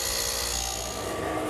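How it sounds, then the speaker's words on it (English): Hollow chisel mortiser fitted with a 1/2-inch chisel and drill bit cutting a mortise in a wooden gate post, a steady close grinding, rasping bore that runs continuously throughout with no talk. "I'm using my hollow chisel mortiser to remove the material"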